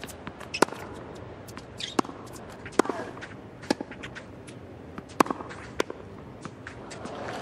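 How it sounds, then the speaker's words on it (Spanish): Sharp, sparse footsteps and scuffs land on a clay tennis court in a Novak Djokovic tennis video game, irregular taps over a soft, low background. "Existe el sonido de las pisadas en tierra y también de la pista dura."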